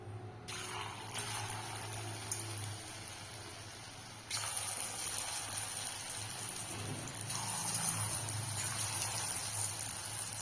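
Mushrooms for mushroom 65 go into hot oil in a kadai, giving a steady broadband frying hiss that swells louder partway through and keeps bubbling throughout, with no voices.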